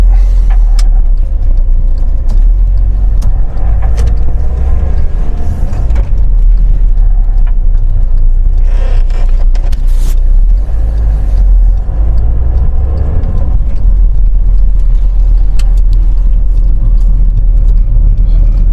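A VW Transporter T5 van drives on the road after an intercooler replacement, a loud, constant low engine and road rumble heard from inside, with occasional mechanical knocks and no talk.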